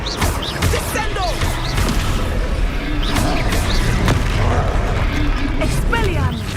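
Descendo spell slam in Hogwarts Legacy on PS5: heavy booming thuds and bursts recur amid busy game effects, with voices talking over the action throughout.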